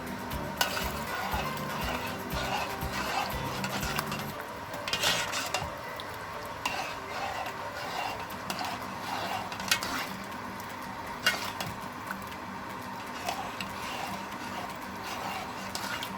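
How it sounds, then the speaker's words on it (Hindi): Kathiawari chickpea curry (cholay) is stirred continuously in a cooking pot, with steady utensil scraping and occasional clinks against the metal over a soft sizzle, close and moderately loud. "इसको छोड़िएगा नहीं वरना इसमें लम्स बन जाएंगे, मुसलसल चलाते रहिएगा।"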